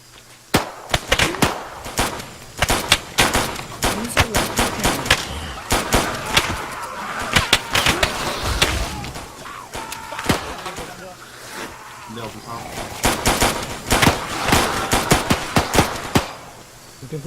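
Soldiers trade gunfire in an Arma game on Tanoa, with dense rifle bursts and rapid single shots cracking almost nonstop at close range while players talk over the shooting.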